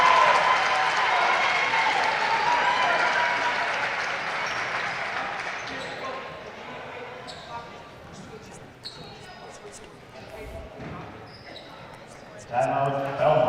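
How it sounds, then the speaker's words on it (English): A crowd roars and applauds loudly through a high school basketball game against Belmont, the sustained cheering slowly fading, with sneaker squeaks, scattered shouts and a commentator speaking over it. "Listen to this crowd."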